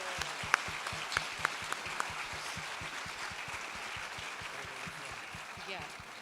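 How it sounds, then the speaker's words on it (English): An audience applauds at a science fair closing ceremony, a steady wash of clapping in a large hall with a few sharper claps standing out near the start, continuing for several seconds. "A big applause, please."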